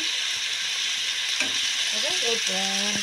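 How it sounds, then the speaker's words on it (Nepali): Cumin seeds frying in hot oil give a steady, bright sizzle throughout, with a few light scrapes of stirring and faint tonal clinks near the end. "मैले जिरा चाहिँ भुटेर हाल्छु"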